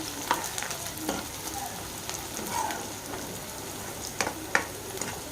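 Curry leaves drop into hot oil in a pan and sizzle with a soft, rain-like crackle, broken by several sharp spits and pops at irregular moments.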